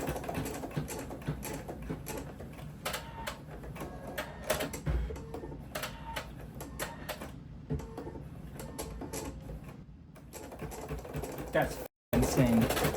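A machine stitches embroidery into thick denim with a steady, rapid mechanical clatter of needle strikes, running at moderate speed and close, with a voice heard intermittently and a brief stop near the end.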